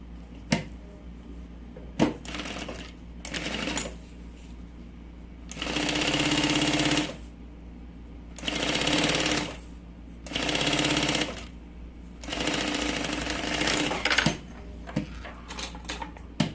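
A sewing machine topstitches a lining on a triple pencil case, running in several loud bursts of a few seconds each, separated by pauses with clicks and handling noises.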